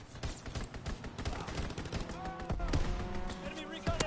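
A fighter aircraft strafing run in a Call of Duty game, a string of rapid gun bursts at moderate loudness mixed with pulsing engine and effect tones, while game voice callouts run underneath.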